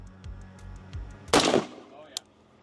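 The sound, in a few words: gunshot fired at a ballistic dummy head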